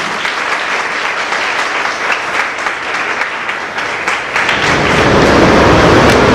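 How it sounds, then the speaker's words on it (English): Loud, dense applause from a large audience welcoming a guest at a cultural event, sustained clapping that swells fuller toward the end. "I would request all of you to welcome him with a very big round of applause"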